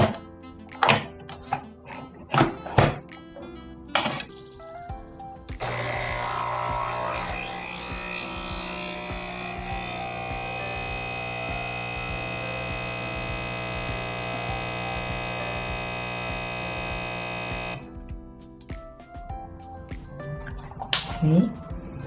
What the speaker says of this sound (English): let's brew. First, I'm going to brew espresso with SealPod capsule.